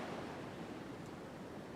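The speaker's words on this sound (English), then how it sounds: "I'm just going to wait for a little gap between this wave and the next wave" Big, wild surf rolls onto a beach where someone is fishing, a steady roaring wash of breaking waves that fills the whole clip with no single crash standing out.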